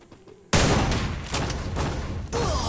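A loud, sustained burst of rapid gunfire in a Free Fire Max 4v4 clash squad ranked match, erupting suddenly after a quiet moment and rattling on continuously.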